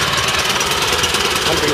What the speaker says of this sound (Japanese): さあチョークを閉じて一発でかかるでしょうか。